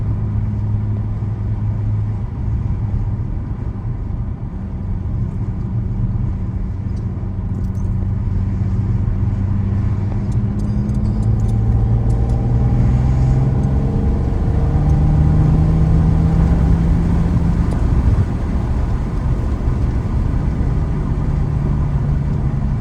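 An Audi RS4 climbs a winding Alpine road from Sölden toward Obergurgl in the Austrian Alps, its engine droning loud and steady from inside the car, pitch rising and falling with gear changes and acceleration, and no one speaks.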